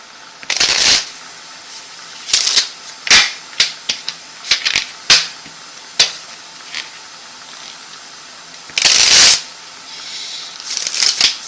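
Tarot cards are shuffled in repeated bursts of crisp riffling and sharp slaps, close by, separated by short pauses, with no talking.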